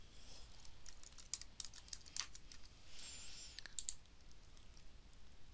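A folder name is typed on a computer keyboard. Bursts of light, quick key clicks come in short clusters, quiet and close, with no speech.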